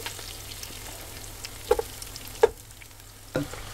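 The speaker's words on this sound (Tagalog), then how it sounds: "Haluin lang natin ng konti para maprito ng konti yung iba nating mga karne." Pork pieces for kare-kare being stirred and fried in a pan, a low sizzle broken by a few sharp scrapes and clanks of the spoon, close and unaccompanied by talk.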